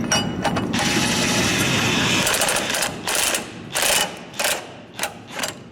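A ratchet runs bolts up onto the nerf bar brackets of a Chevrolet/GMC 2500-3500 truck: first a long continuous clicking run, then several short separate bursts of ratcheting, close and loud, with no voices.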